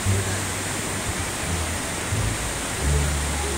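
Steady broadband roar of a waterfall at a scenic stop in Taroko Gorge, Taiwan, loud and continuous throughout with a faint low murmur of voices underneath.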